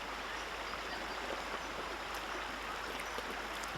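River water flows steadily and softly in the Victorian High Country, a continuous faint wash with no talk over it.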